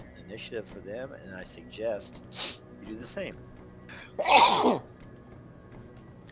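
A single sharp sneeze bursts out loudly near the end, after a stretch of people talking around a tabletop game.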